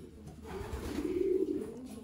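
Young racing pigeons coo in a loft, one low, throaty rolling coo swelling and fading in under two seconds, close and fairly soft.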